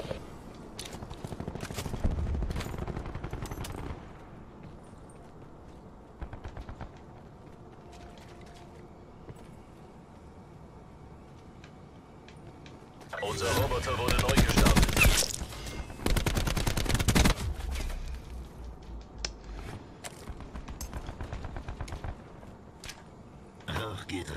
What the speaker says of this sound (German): Unser Roboter wird beschossen